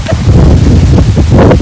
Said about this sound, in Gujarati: ભાઈ પવન બહુ જોરમાં છે.